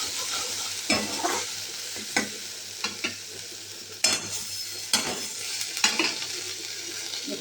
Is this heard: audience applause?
no